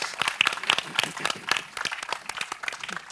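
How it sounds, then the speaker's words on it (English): Brisk, scattered clapping from an audience at the New Realities XR competition finale, sharp individual claps standing out over a lively, moderately close round of applause with no talking. "Warm applause. Big applause."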